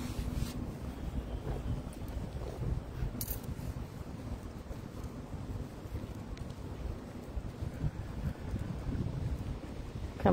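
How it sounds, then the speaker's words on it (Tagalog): Strong wind buffets an outdoor microphone near a mall on a very windy day, a loud continuous low rumble with rustling and occasional clicks, steady from start to finish with no talk. "Napakahangin po ngayon."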